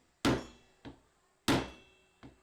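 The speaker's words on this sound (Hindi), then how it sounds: "अब क्या करना, हथौड़े से चोट मारना" A hammer strikes a chisel to cut a nut during an electrical mixer repair, giving two sharp metallic blows, each followed by a lighter rebound tap, in a quiet setting.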